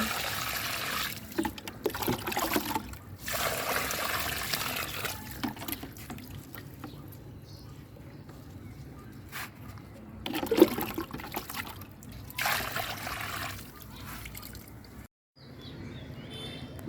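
Water splashing and trickling onto potted plants in a rooftop garden, in bursts of pouring with short pauses between, fairly close and moderately loud, with no talk.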